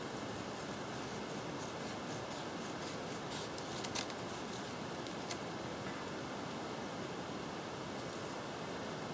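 Scissors snip through paper while a junk journal tag is cut, producing a run of light, crisp snipping strokes over a steady hiss of background noise, close and fairly quiet.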